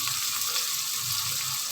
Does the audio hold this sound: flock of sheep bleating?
no